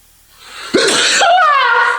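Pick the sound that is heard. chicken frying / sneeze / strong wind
sneeze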